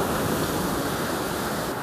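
Sea surf rolling onto a beach in Turkey, a steady, broad wash of waves with a windy hiss, continuous and fairly loud with no voices.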